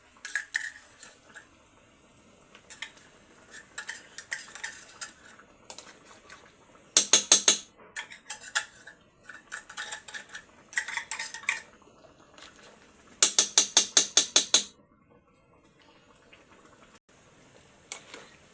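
A utensil stirs pork sisig with tomato sauce, liver spread and peanut butter in a pan, making irregular metallic clinks and scrapes with rapid rattling bursts, close up and fairly loud.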